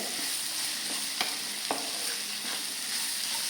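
Carrot, bitter gourd and ripe green chillies sautéing in a pan for a pickle, a soft, even sizzle with occasional light stirring taps, close and quiet, no voices.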